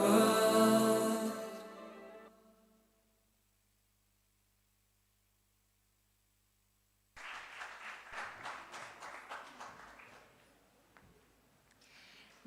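Following a university student performance at a G20 event, an audience applauds briefly and fades after a loud musical close; a quiet pause follows, then another, softer round of clapping that trails off.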